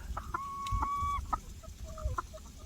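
Chickens clucking in short, scattered bursts close by while being fed grain, with soft higher calls mixed in over a quiet farmyard background.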